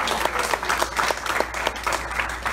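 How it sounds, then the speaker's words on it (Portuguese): Church congregation claps together in a loud, rhythmic, evenly spaced beat, the collective hand claps pulsing steadily close by. "Pode aplaudir ao Senhor."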